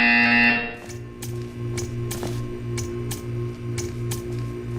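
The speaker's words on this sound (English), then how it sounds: "You will hear a buzzer." A loud electronic buzzer in the video game Portal 2 blares briefly, then a softer pulsing electronic hum repeats in a steady rhythm with periodic clicks.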